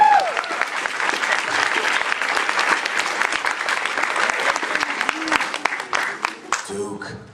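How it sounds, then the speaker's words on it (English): Dense clapping from an audience carries on steadily for several seconds, thinning toward the end as a voice comes in. "I think that deserves applause"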